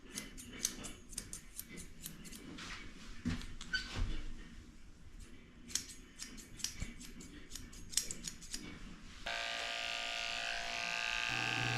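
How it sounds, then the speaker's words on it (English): Electric clippers with a 30 blade shave the inside of a Shih Tzu's ears. Crisp scissor-like snips and ticks come first, then a steady, close buzzing hum for the last few seconds. "I'm shaving the inside of her ears out very lightly with a 30 blade."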